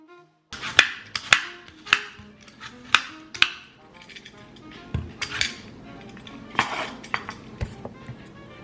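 A knife peels and cuts apples for an apple pie in a home kitchen. Crisp, uneven clicks and taps of the blade hitting a board and bowl come close and clear, with short pauses between strokes.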